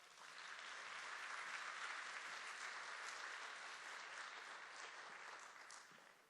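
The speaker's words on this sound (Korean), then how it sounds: "박수로 환영하겠습니다" Students at a Thursday chapel service at Global Sunjin Academy's Mungyeong campus applaud to welcome a pastor, a steady, evenly sustained round of many hands clapping at moderate distance, with no voices over it, tapering slightly at the end.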